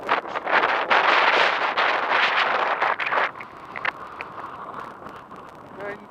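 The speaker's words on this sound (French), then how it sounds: "il y a beaucoup de vent" Loud, steady wind rushes and buffets the microphone at a trekking campsite in Morocco for the first few seconds, then eases to a softer, continuous roar as a sandstorm builds.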